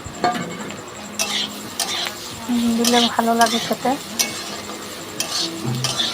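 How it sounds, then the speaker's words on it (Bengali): Chopped onion goes into a pan of frying teasel gourd and potato, with a soft sizzle under clattering spatula strokes against the pan while someone talks. "এবার পেঁয়াজ কুচনো দেবো"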